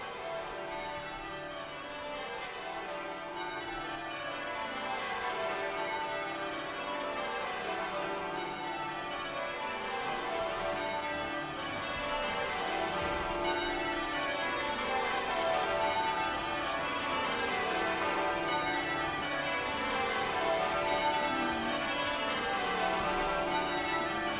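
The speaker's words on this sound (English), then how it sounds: "The bells ring out" Church bells ring for the coronation of King Charles, a long continuous peal of overlapping tolls cascading in repeated descending patterns, full and resonant throughout with no speech.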